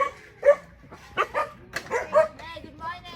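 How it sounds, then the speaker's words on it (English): Guard dogs at a rural caretakers' house in San Isidro bark in short, loud bursts with yips and whimpers between them, close by. "All the guard dogs here."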